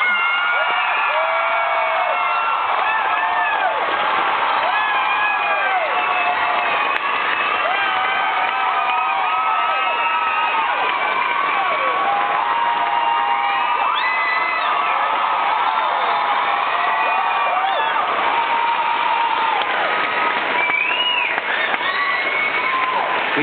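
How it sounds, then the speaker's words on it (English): Large theatre audience in Sydney applauding and cheering at the final-performance curtain call of the musical Wicked, a dense continuous roar of clapping with whoops and shouts sustained throughout, loud and steady. "I would like you just to give another special round of applause for these talented,"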